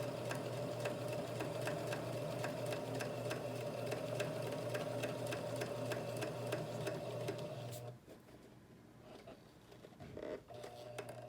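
A Kenmore 385 series sewing machine stitches a buttonhole, running in a steady, close mechanical whir with rapid needle ticks that stops after about eight seconds, leaving quieter handling noises.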